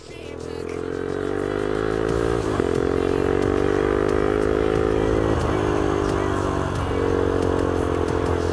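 A motorcycle engine idles and runs steadily, a loud, close, continuous drone with slight shifts in pitch and a few clatters and scrapes over it.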